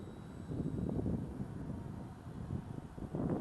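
Gusty wind buffets the microphone at an RC model flying field, a low rumbling roar that swells and eases in waves.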